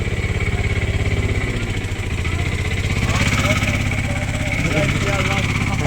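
A car engine revs and labours as it accelerates on a slippery snow-covered road during a snowstorm in Srinagar, a continuous throbbing drone close by, with people talking over it.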